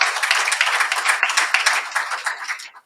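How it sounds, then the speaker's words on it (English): Audience at a municipal broadband and digital skills event gives a round of applause for a High Commissioner, a burst of many hands clapping indoors that fades out after a few seconds. "Can we give the High Commissioner a round of applause"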